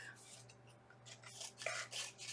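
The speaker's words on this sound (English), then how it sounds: "And then I'm going to use my sanding block." Short, repeated scratchy rasps of sanding, close and fairly quiet, coming in uneven strokes.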